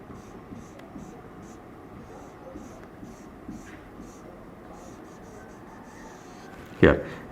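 Marker or chalk strokes on a board during a maths lecture on the area under a parabola, with faint repeated scratchy strokes under a quiet hum and a sharp knock near the end.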